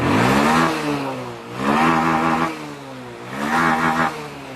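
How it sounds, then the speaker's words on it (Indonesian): A Honda Revo fuel-injected motorcycle engine is revved hard three times close by, each blip climbing to a loud roar then dropping back to a rough idle between bursts. "Ini saya gas betot, ya."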